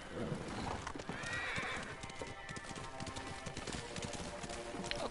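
Hoofbeats clip-clopping with a horse's whinny in a samurai video game, steady trotting hooves under faint background ambience, without talk.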